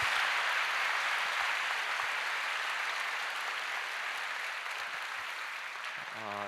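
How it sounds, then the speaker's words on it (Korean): A church congregation applauding after a testimony, a sustained wash of clapping that holds steady and slowly thins toward the end, with no talking over it. "남경필 집사님께 우리 박수로"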